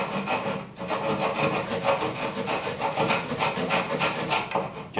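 A Japanese pull saw cuts through wood while building a platform bed. The close, continuous rasping swells and fades with each stroke.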